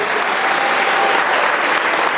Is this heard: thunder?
no